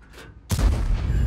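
A World of Tanks cannon shot, a sudden heavy boom after a quiet moment, followed by a rumbling, echoing tail that stays loud and close.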